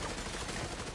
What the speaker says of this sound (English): Stray bullets.